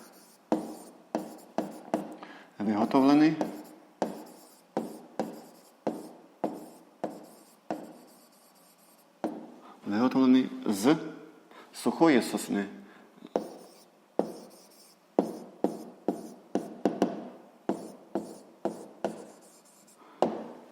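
A pen or pencil writes by hand on paper in short, regular strokes at close range, pausing now and then while someone speaks Ukrainian between the strokes.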